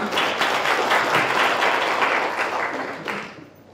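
Steady, dense audience applause for two guests after a film talk at an international community power conference, holding strong for several seconds before tapering off at the close.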